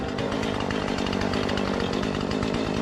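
A chainsaw runs continuously at high revs, its loud, buzzing, raspy drone cutting through wood during the rescue of abandoned vehicles from a swamp, steady and close with no pauses.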